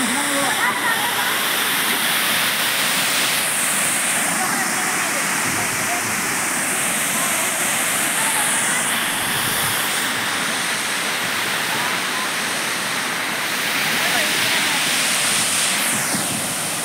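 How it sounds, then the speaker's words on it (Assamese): Water crashing down at Kakochang waterfall, a loud unbroken rushing roar heard up close, with a few faint whooshing shifts in the spray over the steady torrent. "এই জলপ্ৰপাত ওচৰত আমাৰ দেখাই আছে দৃশ্য"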